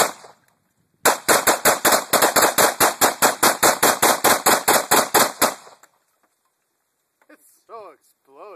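Gunfire shooting at a VCR, a rapid string of about two dozen sharp, loud shots in steady rhythm lasting several seconds, followed by silence and brief voices.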